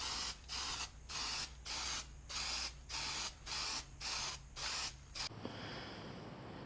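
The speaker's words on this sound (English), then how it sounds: "So I'm going to put some zinc paint on there now." Zinc primer sprayed from an aerosol can onto a welded car body panel: nine or so short, loud hissing bursts in an even rhythm, then a faint rattle and quiet room noise.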